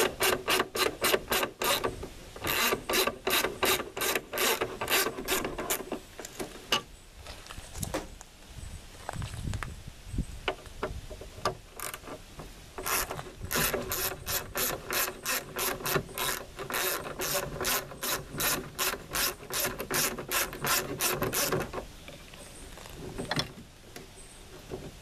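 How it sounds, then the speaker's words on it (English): A T30 Torx driver with a ratchet removing mirror bracket bolts on a 1986 Ford F-150 door, with long runs of fast, close ratcheting clicks broken by short pauses. "using a T30, I'm just going to remove these two bolts that holds the mirror bracket"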